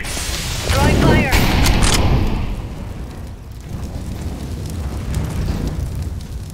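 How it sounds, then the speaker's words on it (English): Grenade blasts in Counter-Strike on the Inferno map: a loud booming burst with a sharp crack near the start, then rumbling debris and a lower roar fading under continuing game noise and voices. "Throwing a grenade."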